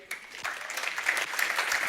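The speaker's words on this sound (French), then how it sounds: "On peut les applaudir." A church audience claps in a dense, continuous patter of applause that builds slightly over about two seconds, without talk.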